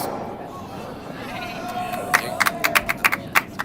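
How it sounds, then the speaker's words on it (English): A crowd at a curling match breaks into scattered clapping after a low murmur, a series of sharp, separate claps rising near the end, modest in volume. "We get some claps here in the crowd"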